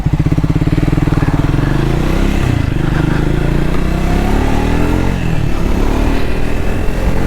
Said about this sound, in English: I'll take the bike around 80 kilometers per hour, and then I test it on a straight road